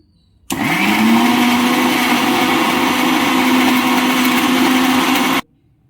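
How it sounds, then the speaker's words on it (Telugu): A mixie grinding spinach into a paste: a loud, steady motor whine starting abruptly, holding for about five seconds, then cutting off to silence. "మిక్సీ పట్టిన పాలకూర పేస్ట్"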